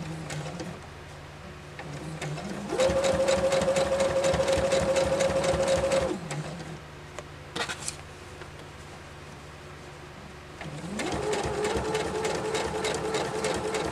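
A sewing machine stitches in the ditch on a quilt in quilt-as-you-go work, with two steady, whirring runs of several seconds each and a quieter hum and handling noise between them.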